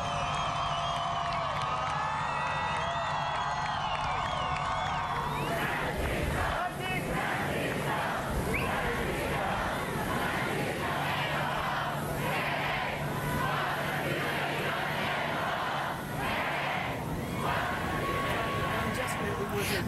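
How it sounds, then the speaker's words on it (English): A jubilant outdoor crowd cheers and chants as Pope Francis arrives in Washington, DC, with a loud, continuous wash of voices, rhythmic shouted chants and whoops, and a narrating voice over the start. "the crowd was jubilant"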